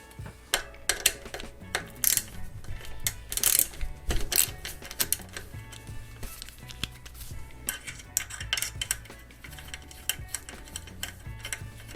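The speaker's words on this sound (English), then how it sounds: "The next thing we're going to do is remove the two bolts here on the side." A tool works bolts loose from the side of a Surly front rack on a bicycle, giving close metallic clicks and ratcheting taps in uneven bursts with quiet gaps between.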